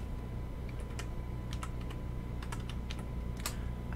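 Someone types on a computer keyboard in quick, irregular bursts of light clicks over a steady background hum, with no talking.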